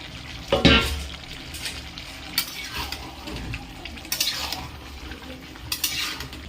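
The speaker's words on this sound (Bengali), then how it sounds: "আরও দশ মিনিট মতন একটু কষিয়ে নেব" Quiet sizzling of chicken curry in a pan with intermittent spoon scrapes and metallic clinks as it is stirred, no voices.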